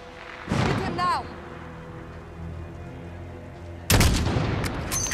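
Two bursts of gunfire in the video game Call of Duty: Modern Warfare, a sharp shot early and a louder, longer blast near the end, with quieter ambience between them.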